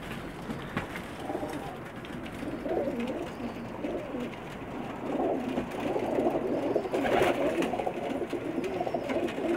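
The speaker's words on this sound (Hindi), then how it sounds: "ये मैं आपको अपनी पसंद का एक कबूतर दिखा रहा हूँ।" Pakistani pigeons cooing steadily in soft, low, repeated calls, fairly close and continuous throughout, with no talking.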